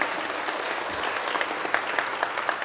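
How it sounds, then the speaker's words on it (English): Audience at a community college adult education graduation ceremony breaks into sustained applause, a dense, even wash of many hands clapping with a few sharper claps standing out, continuing for the whole stretch. "So let's give her a little applause for her."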